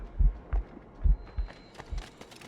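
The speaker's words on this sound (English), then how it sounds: "Keeps my heart beating." A slow, steady heartbeat from a poison effect in the video game Assassin's Creed Rogue, five or six heavy low thumps in a regular lub-dub rhythm, close and loud and otherwise alone.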